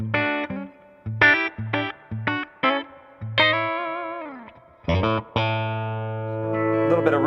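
An electric guitar plays through a Klon Centaur overdrive pedal, giving a clean-to-driven tone: a run of short, plucked notes and chords, then a sustained ringing chord that fades. No one talks over it.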